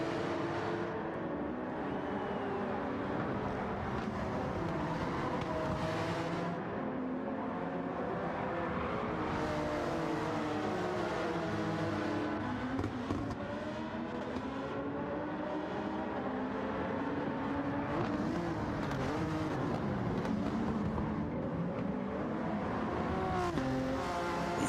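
Race car engines roar and rev in a Gran Turismo 7 Manufacturers Cup race, several cars battling closely as pitches climb and fall through gear changes, loud and continuous throughout.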